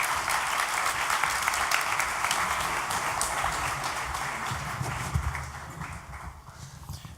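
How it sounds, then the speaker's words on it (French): Sustained, dense applause from a conference audience greeting panel speakers, loud and close throughout before tapering slightly near the end. "Je vous demande d'applaudir Geoffrey Dorn, Valère Fédronic et Pierrick T"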